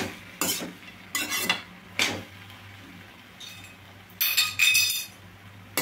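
A spoon stirring puffed rice upma in a pan, with a handful of separate scraping strokes and metallic clinks against the pan, close up, with quiet pauses between them and no talking.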